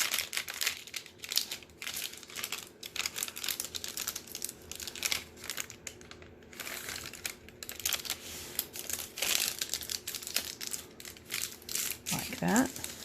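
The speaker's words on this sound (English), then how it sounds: "Fold it in half widthwise." Paper folded in half widthwise for a small booklet journal, crisp crinkling and rustling in repeated bursts, close up, with a voice talking between the sounds.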